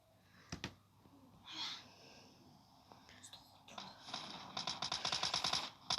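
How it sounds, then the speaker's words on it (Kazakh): Soft voices and scattered noises build into a rapid burst of automatic gunfire near the end, sharp repeated shots in quick rhythm, in PUBG Mobile. "атыс кетіп отыр"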